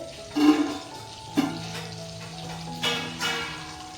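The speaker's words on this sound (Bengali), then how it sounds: "বাটারটা আমার গরম হয়ে এসছে। দেখুন, বাটারটা পুরোপুরিভাবে গলে গেছে।" Butter melts with white oil in a pan over medium heat, giving a faint, soft sizzle with a few light clinks and stirring scrapes scattered through it, and no one speaking.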